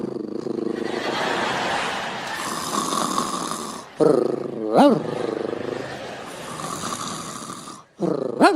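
A comedian imitates a small dog with his voice, giving long rumbling growls broken by sharp rising yelps and barks, loud and close, delivered in a stand-up routine.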